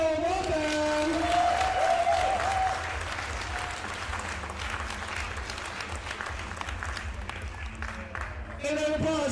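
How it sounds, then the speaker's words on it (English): Steady applause from the audience at a powerlifting competition awards ceremony, a continuous dense clapping that carries on loudly throughout, briefly sitting under a voice on the PA. "Give a round of applause for your 120 plus category."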